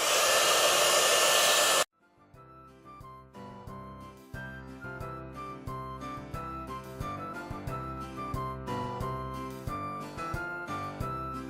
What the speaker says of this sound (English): you want to preheat your heat gun so that when you put it onto your piece, it embosses immediately